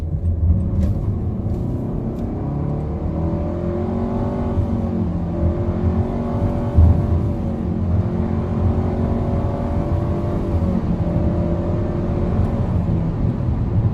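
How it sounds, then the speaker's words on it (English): Nissan Altima 2.5 SV engine at full throttle in drive, a loud sustained drone with a rising, whining tone held steady for the whole stretch, heard from the cabin. "But here's full throttle once I get straight."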